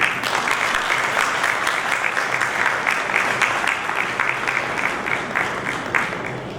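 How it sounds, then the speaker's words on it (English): An audience at a CEO summit at an automation expo gives a sustained round of applause, a thick, even clatter of many hands at steady loudness throughout, with no talk over it. "Ladies and gentlemen, a huge round of applause"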